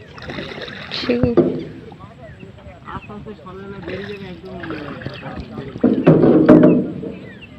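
A small boat moves through water near fishing nets, with splashes in two bursts over a soft watery background while people talk.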